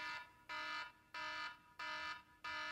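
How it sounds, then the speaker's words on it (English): A timer alarm going off in a series of four loud, even electronic beeps, each about a third of a second long and separated by short, regular gaps, heard clearly with no talk. "That's the timer"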